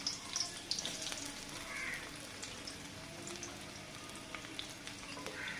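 Chopped onion dropped into hot oil for a fish curry, giving a faint, soft crackling sizzle with a few small pops, quiet and continuous throughout.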